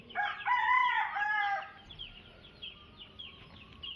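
A rooster crows loudly and close by on a farm in Kadapa, India, one long harmonic call, followed by fainter clucks and distant calls from other birds.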